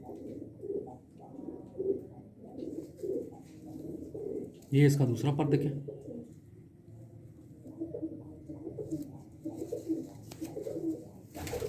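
Soft, low cooing from Sialkoti pigeons, repeated throaty coos close by, with rustling and someone talking over them.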